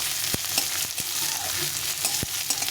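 Thinly sliced onions soften in a pan with little oil after garlic and ginger, a constant close sizzle punctuated by several sharp spatula taps and scrapes against the pan at irregular intervals.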